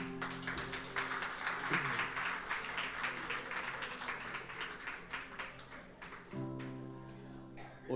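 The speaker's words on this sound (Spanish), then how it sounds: "si la iglesia puede regalarles un aplauso" A church congregation applauds steadily for several seconds, dense clapping filling the room, with soft music tones underneath as it tapers off.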